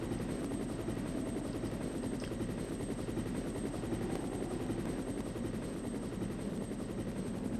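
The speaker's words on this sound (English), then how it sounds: "And the helicopter comes over" Helicopter from the Resident Evil video game passing overhead, a steady loud rotor thrum with a constant buzzing drone, no talk.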